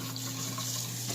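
Steady, fairly loud rush of running tap water rinsing lightened hair over a sink, continuous and close with no talking.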